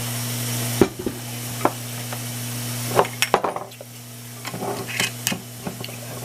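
Rock cod frying in a pan for fish fajitas, with a soft sizzle running under a steady electric hum, broken by sharp clinks and scrapes of a utensil against the pan and a few taps, close by, with no talking.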